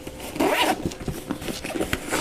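A zip on the back of a Case Logic DCB307 camera bag is pulled in several quick rasping strokes, close and fairly loud, with no talking over it.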